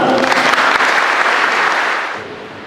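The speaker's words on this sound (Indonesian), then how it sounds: "Tepuk tangan." Applause rings out at a school inauguration ceremony for student council officers at MAN IC Aceh Timur, loud dense clapping from a close crowd that holds steady, then fades away near the end.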